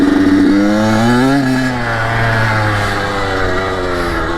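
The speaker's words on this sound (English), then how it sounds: "Right now I'm on a KX85, put retro graphics on it." A Kawasaki KX85 dirt bike ridden along a mountain trail in New York, its small two-stroke engine droning loud and close with rising and falling pitch as the throttle shifts.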